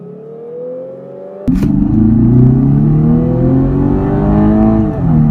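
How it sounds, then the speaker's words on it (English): A 2017 Lexus RC300 AWD F-Sport engine drops down a gear and the revs jump sharply, then hold a loud, rising drone close by. "let's drop it down a bit to see how this car sounds"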